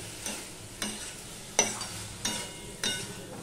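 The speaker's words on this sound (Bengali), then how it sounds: "এই বরবটিগুলো দিয়ে আমি আবারও একটুখানি মিশিয়ে নিলাম, মিশিয়ে নিয়ে কষিয়ে নেব" Yardlong beans and potatoes stirred in a pan with spices, five evenly spaced scraping strokes over a steady soft sizzle, close and moderately quiet.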